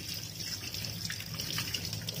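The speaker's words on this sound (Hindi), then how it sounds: "अब आ रहा है कितना तेज पानी" Water gushes strongly from the tap of a water tank after the tank was cleaned of dirt and grime, a continuous rushing, splashing flow heard close and steady throughout, with no talk.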